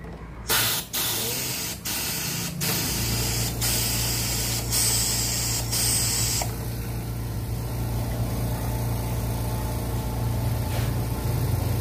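Engine oil drains from a Honda ADV 160 scooter in a steady, close hissing stream that settles into a constant spray-like rush after a few clicks and knocks, with no one speaking.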